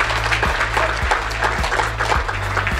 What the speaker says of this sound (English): we should just give a round of applause to everybody who's done some amazing things here this morning